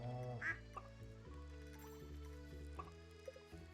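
A duck in the farming game Stardew Valley gives a short quack early on, with a couple of fainter quacks later, all set against steady background game music.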